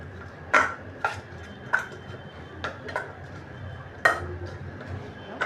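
Grated mozzarella and a grated cheese cube are mixed in a bowl, a spoon tapping and scraping against it in a series of irregular light clinks, close and fairly clear.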